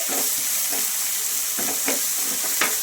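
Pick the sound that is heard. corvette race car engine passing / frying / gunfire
frying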